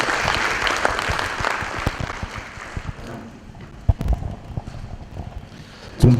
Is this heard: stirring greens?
no